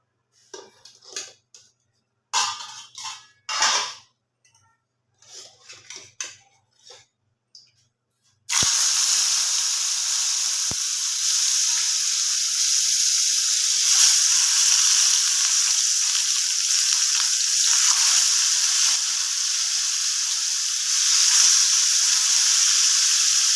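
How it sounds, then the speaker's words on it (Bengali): Pieces of mrigal fish drop into hot oil and set off a loud, sudden sizzle that continues as a steady hiss for about fifteen seconds, after some quiet kitchen clatter. "এবার মাছগুলো ভাজা হবে"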